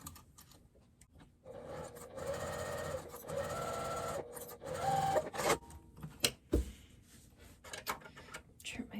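Sewing machine basting a zipper in place on a crossbody bag, running in short bursts of quick, steady stitching separated by pauses and soft handling clatter, fairly quiet and close.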